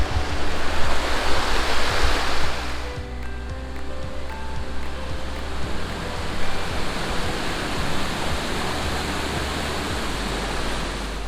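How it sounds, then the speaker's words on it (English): The Dunseverick waterfall pours down toward the sea, giving a dense, steady rushing roar that sounds loud and close, slightly heavier for the first few seconds and then continuing evenly with no voices. "the waterfall comes right down through and out to the sea"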